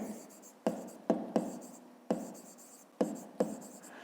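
A pen writes on paper during a fifth-grade maths exercise, making quiet, close scratchy strokes. About seven distinct taps and scribbles come in an uneven rhythm.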